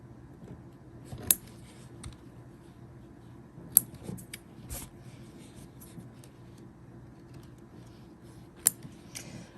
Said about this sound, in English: there really are quite a few jump stitches that I will have to trim here